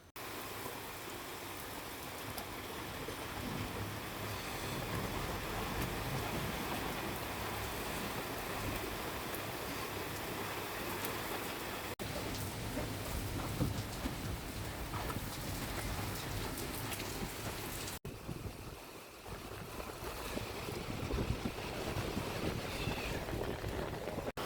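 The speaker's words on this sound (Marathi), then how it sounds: "तर मित्रांनो एकदम खतरनाक पाऊस चालू आहे आपल्या इकडे. तर एवढं वारं ते आहे आणि पाऊस पण एवढा आहे डेंजर." Heavy rain pours steadily with strong gusting wind over a village farm, a dense continuous roar of drops that changes texture partway through and keeps going without a break.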